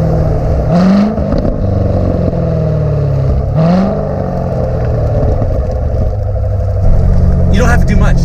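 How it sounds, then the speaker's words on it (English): Stock exhaust on a BMW M4, idling steadily with two quick throttle taps that make short rising revs, and a brief rumble near the end. Someone talks over it. "It sounds, if I tap the throttle, get a little bit of blowback."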